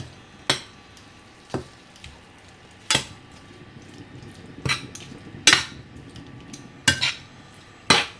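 A spoon or spatula strikes a pan about seven times as cauliflower curry is mixed with ginger-garlic paste, the sharp clinks spaced over a low, faint sizzle.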